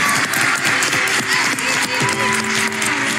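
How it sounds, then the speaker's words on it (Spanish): Studio audience applause in the Bake Off Argentina tent for a departing contestant, steady dense clapping throughout with faint voices mixed underneath. "este aplauso es para vos"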